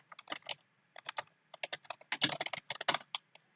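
Computer keyboard typed in a quick, uneven burst of close, crisp key clicks while entering a folder name, with no voices.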